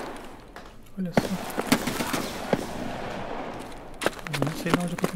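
Rapid bursts of Escape from Tarkov gunfire crack out in uneven clusters, sharp and loud, with a few heavier booms and a voice briefly audible between shots.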